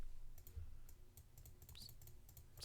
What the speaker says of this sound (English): Just left clicking for